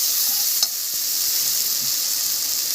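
Rice frying in a pan gives a steady, loud sizzle as goda masala is added and stirred in, with a faint scrape or tap of the spoon early on and continuous hiss throughout.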